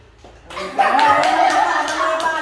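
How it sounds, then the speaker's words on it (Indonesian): Classroom children clapping their hands together, a dense burst of claps starting about half a second in and continuing steadily, with a voice faintly under it. "Kok ada tepuk tangan?"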